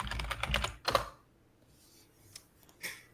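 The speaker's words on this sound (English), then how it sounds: "That was some aggressive typing." Aggressive typing on a computer keyboard: a dense burst of loud, clacking keystrokes up front, then a pause and a few scattered, sharper key hits toward the end, with no voices.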